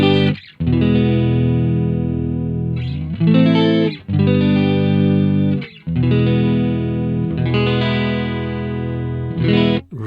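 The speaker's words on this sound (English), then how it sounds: "Chorus." An electric guitar played through a pocket-sized VOX amPlug headphone amplifier with its chorus effect on rings out loud, sustained, distorted chords, separated by short gaps between strums.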